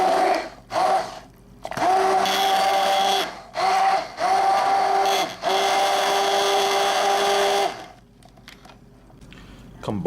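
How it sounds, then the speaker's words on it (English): An immersion blender purées apples with their natural juices in bursts, a close, loud whirring hum that starts and stops several times before a steady long run and then cuts off. "Immersion blender."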